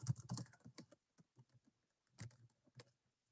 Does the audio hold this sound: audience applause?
no